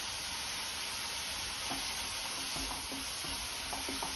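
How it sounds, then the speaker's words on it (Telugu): Mustard seeds and curry leaves frying in hot oil, a steady close sizzle with faint crackles and small pops throughout. "ఇవి బాగా వేగాలండి."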